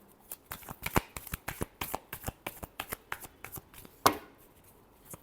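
Tarot cards being shuffled close up, a run of quick papery riffles and taps with one sharper slap near the end, no voice over them.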